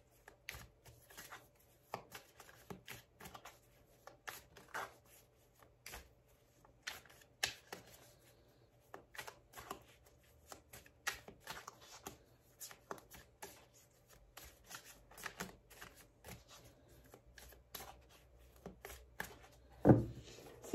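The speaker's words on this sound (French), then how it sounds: "on va prendre 6 cartes de tarot" Tarot cards being shuffled and handled up close, a long stretch of soft, rapid papery flicks and taps at low level, with no voices and a slightly sharper knock near the end.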